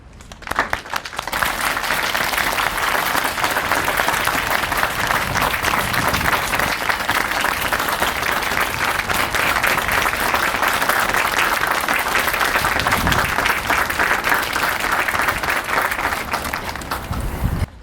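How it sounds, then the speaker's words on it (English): Sustained applause from a large crowd at an outdoor remembrance gathering in a park, steady and loud throughout, with no talking over it. "have a round of applause"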